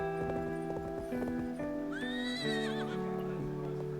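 Horse in the Cowboy Life Simulator video game, steady clip-clopping hooves throughout with a rising, wavering whinny in the middle, close and clear over background game music.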